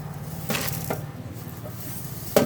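Fenugreek seeds for amla pickle drop into a hot pan in a few quick rattling patters, followed by a soft sizzle and a sharper clatter near the end.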